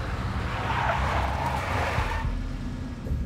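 A big black Mercedes skids in the Max Payne video game, a broad hissing tire slide with engine rumble that runs loud and steady for about two seconds, then drops away into a quieter low drone.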